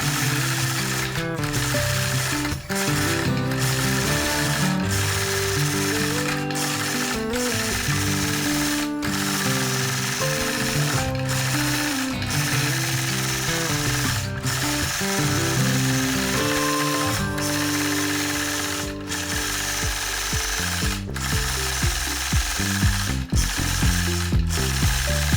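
A sewing machine stitches free-motion quilted bump-back feathers, a fast rhythmic mechanical chatter that runs almost continuously with brief pauses, close and loud.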